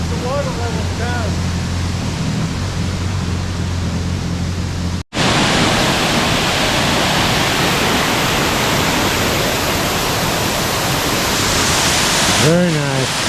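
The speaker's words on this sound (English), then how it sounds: "Light Creek Falls. There they are on top of the waterfall." Light Creek Falls at Lake Jocassee, South Carolina, pours with a steady, broad rushing roar that fills most of the stretch, with a voice briefly heard at the start and near the end.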